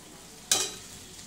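Raw potatoes drop into a pan of softened frying onions for an aloo methi sabzi, giving one short burst of hissing sizzle that fades quickly to a quiet background crackle.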